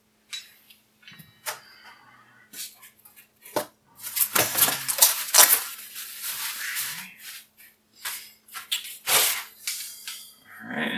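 Metal base of a Pit Barrel Cooker handled during unboxing, giving scattered clanks, scrapes and rattles of sturdy metal, some sharp and close, spread irregularly with quiet gaps between.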